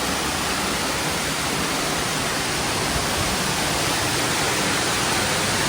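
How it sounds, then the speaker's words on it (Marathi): Monsoon seepage from a rock face runs through a pipe beside a village temple, giving a steady, loud, unbroken rush of flowing water with no pauses or voices. "पाईप वगैरे टाकून हे बघा पूर्ण पाणी इकडे जात आहे"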